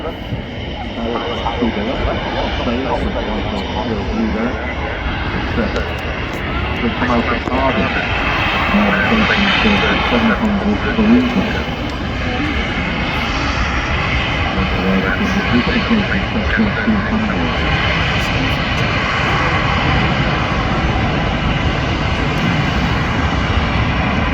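Jet airliner engines, including an Emirates jet waiting to leave at Manchester Airport, roar steadily from the runway area, a broad sustained rumble and whine heard from a distance with people talking over it.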